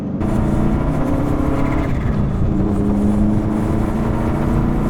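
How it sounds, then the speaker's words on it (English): A Volvo rally car cruises along a highway while losing power, a loud, steady low engine drone and road roar from inside the cabin that holds level for the whole stretch. "I just can't believe I'm driving a rally car. Just chilling down the highway."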